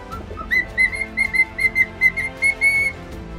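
A bird at an outdoor spot with rabbits, ducks and pigeons whistles a repeated series of short clear notes in an even rhythm, close and distinct over a faint background.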